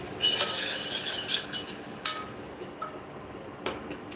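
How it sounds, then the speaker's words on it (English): A spoon stirs Ghana jollof rice with green peas and carrots in a cooking pot, giving scattered metallic clinks and scrapes against the pot over a few seconds, close and fairly quiet, with no voices. "So let's stir it."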